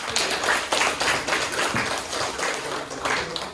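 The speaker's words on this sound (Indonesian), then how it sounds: "tepuk tangan untuk kelompok" A short burst of applause from a small group after a class presentation, steady uneven clapping lasting a few seconds with no voices over it.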